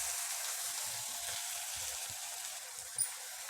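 Chili with ginger-garlic paste frying in oil on a low flame, a soft steady sizzle running without break, with one faint clink near the end and no one speaking.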